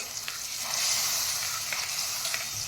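A masala gravy for green moong kofta sizzles steadily in oil, a soft continuous hiss with a few light crackles and no voices.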